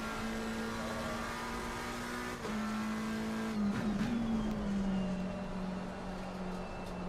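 Porsche race car in a sim racing game at Watkins Glen, its engine droning steadily with a shifting pitch, sliding on worn tyres with brief squeal-like bursts midway, continuous and close.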